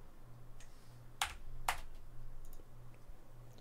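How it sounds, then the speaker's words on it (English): Typing on a computer keyboard comes through as a couple of sharp, distinct key clicks and a few fainter taps over a quiet room hum, close and sparse rather than a continuous stream. "every time you hit a button on your keyboard, you do it as expressively as possible"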